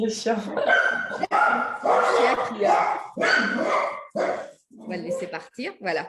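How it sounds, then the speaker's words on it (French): A dog barks and yips several times in close succession, loud and near, mixed in with people talking. "Ah, c'est le chien."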